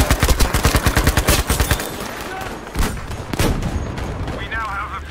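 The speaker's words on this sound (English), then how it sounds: "Shit, machine gun!" Rapid machine gun fire in Battlefield V rattles out in a loud, rhythmic burst of evenly spaced shots, then gives way to scattered distant gunfire and battle noise with a voice calling out briefly.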